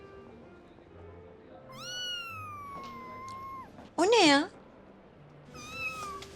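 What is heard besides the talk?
cat meowing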